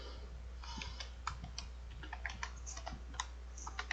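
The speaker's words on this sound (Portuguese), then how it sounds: "digitar link e ele vai vir aqui" A link being typed on a computer keyboard, producing a close, steady patter of light key clicks at an irregular typing rhythm over a low hum, with no talking.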